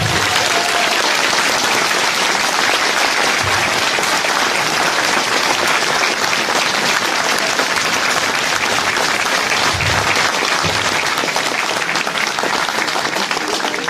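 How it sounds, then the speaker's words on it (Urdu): A large crowd at a Labour Day union program claps for Turi sahib, producing loud, sustained, dense applause that continues without a break. "توری صاحب کے لیے کم از کم 30 سیکنڈ تالیاں بجائیں"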